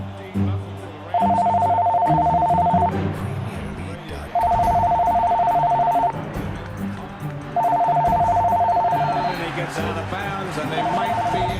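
A telephone rings in repeated electronic bursts, four rings roughly evenly spaced, loud over a steady bed of background music and noise.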